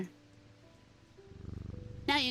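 A cat in the video game Strange Antiquities gives a quiet, fluttering purr that grows steadier and louder over a couple of seconds, and a voice cuts in at the very end.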